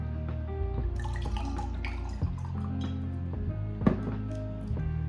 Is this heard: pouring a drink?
yes